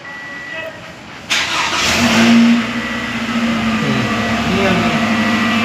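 A 2016 Toyota Camry engine fires up with a push-button start after a few seconds of quiet, then runs with a steady hum and light revs. It is close by and fairly loud.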